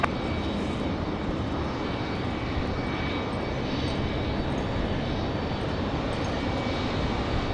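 Boeing 737 MAX 9 taking off from Raleigh-Durham bound for Seattle, a continuous broad jet engine roar, loud and steady from start to finish, heard alone.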